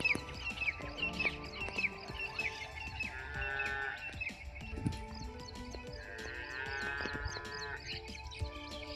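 A cow moos outdoors in rural Gujarat, several drawn-out calls from fairly close, heard over faint background farm noise and some distant activity.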